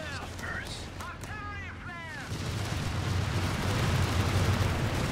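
Artillery shells firing and bursting in a real-time strategy war game, a loud rolling rumble that swells and stays dense after some whistling tones and game voices early on.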